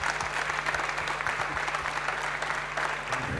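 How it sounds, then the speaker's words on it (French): An audience applauds steadily for an award winner at an installer trophy ceremony, dense clapping filling the room without a break. "On peut l'applaudir."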